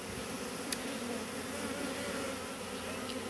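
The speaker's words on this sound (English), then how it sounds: "I can't guarantee that if you see a swarm that the bees won't be aggressive" A honeybee swarm hums in a dense, steady drone up close at an open beehive, with occasional single bees buzzing nearer over the continuous outdoor background.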